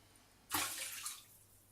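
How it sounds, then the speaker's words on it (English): Holywell sacred spring water poured into a bath: a sudden splashing gush that starts abruptly, runs for under a second and then tapers off, fairly close and with no voices. "the Holywell sacred holy spring water, which I will add to my bath as well"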